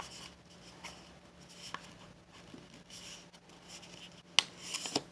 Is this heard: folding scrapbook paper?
yes